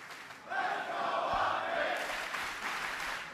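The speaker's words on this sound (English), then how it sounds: "Crowd getting riled up." A crowd at an esports tournament cheers and roars for about three seconds, a broad, loud swell of voices that holds steady with no single speaker standing out.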